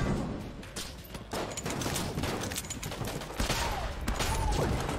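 Rapid, dense gunfire from the video game Mod the Gungeon, with silver bullets among the rounds fired and rocks striking enemies, a sustained barrage of crackling shots and impacts, fairly loud throughout with no voices.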